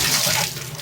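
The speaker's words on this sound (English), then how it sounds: "I'm closing the water." Water streams from a Moen shower tub faucet, a loud close hiss of running water that eases slightly toward the end, with no voices.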